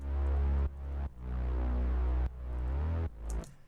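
Simple sub bass layered with a gliding synth bass for a powerful drop: loud, rich sustained bass notes that slide and change pitch in long phrases, close and full, with short breaks between notes.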